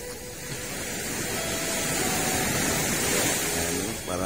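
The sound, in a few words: fairly big ocean waves breaking onto the shore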